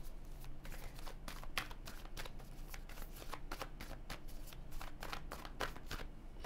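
Tarot cards shuffled by hand, a rapid run of crisp papery riffles and flicks, close and steady throughout, with no voices.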